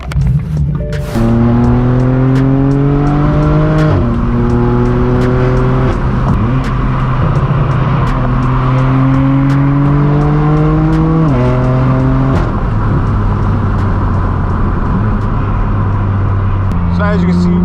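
Loud straight-piped exhaust of a BMW M4 F82 on the road, heard from inside the car as the engine rises through the gears in repeated climbing pulls, each ending with a drop at the shift.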